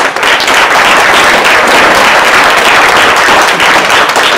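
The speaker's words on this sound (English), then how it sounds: "Let's give a big round of applause to all our friends at SEIU." A crowd at a ceremonial resolution honoring the women of Monterey County claps loudly and continuously, a thick wash of applause filling every moment with no speech on top.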